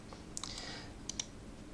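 Computer mouse button clicks in a quiet room, a few sharp isolated clicks in two small clusters, close and faint, with no talking.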